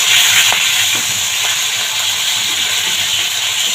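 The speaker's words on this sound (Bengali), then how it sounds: "গ্যাসটা একদম মিডিয়ামে রেখে মাছটা ভাজছি।" Fish fries in oil in a pan over a medium gas flame with a loud, continuous hissing sizzle and a few faint crackles and taps. No one talks.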